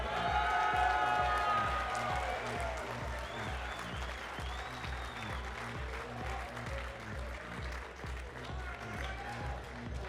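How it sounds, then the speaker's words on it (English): A crowd at the QuakeCon 2014 finals party applauds Adam Pyle, loud dense clapping with some cheering that holds steady for about ten seconds, with a voice briefly audible at the start. "Please give a round of applause for Adam Pyle."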